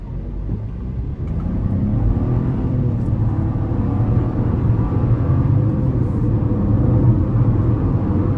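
A 2025 Chevy Trax 1LT with a 3-cylinder turbo engine accelerates under a firm but not full-throttle pull. A loud, steady cabin drone and road rumble build and then hold, with a faintly rising engine tone. Nobody speaks.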